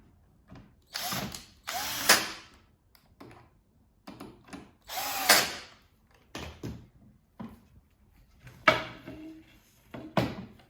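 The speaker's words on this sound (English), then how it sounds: "Then you use the screw to secure them together." A screw is driven in to secure car bed platform pieces, with several close, loud bursts of a powered driver whirring, separated by short pauses, quieter handling clicks and rattles of the parts.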